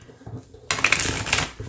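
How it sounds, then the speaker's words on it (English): A deck of thin-cardstock tarot cards is riffle shuffled close to the microphone, first a soft handling sound and then a sudden dense, crisp burst of fluttering cards that lasts about a second, with no talking. "I'm actually able to riffle shuffle it"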